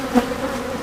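Honeybees from a queenless hive with several queen cells hum steadily near the beehive, a close, continuous buzz with a brief louder pass as one flies by.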